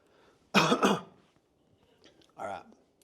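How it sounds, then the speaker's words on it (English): Two coughs from a man: a sharp, loud double cough, then a quieter single cough a couple of seconds later, close to the microphone in a quiet room. "excuse my coughing"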